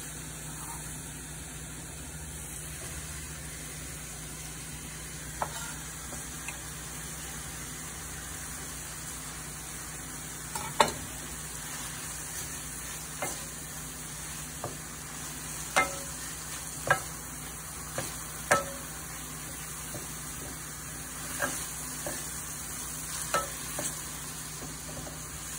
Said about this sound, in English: just as the peppers kind of start to change color, I'm gonna add in the sun-dried tomatoes.